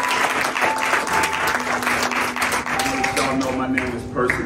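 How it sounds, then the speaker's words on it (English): A crowd applauds at a family-focused event about substance abuse and mental illness, steady and loud throughout, with voices and some tonal background sound mixed in underneath. "you guys give yourself a round of applause"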